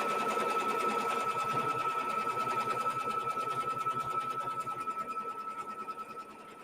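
A sewing machine stitches the final guideline on a quilt block hooped in stabilizer, running steadily and fairly close throughout, with a rapid even needle rhythm that eases slightly toward the end.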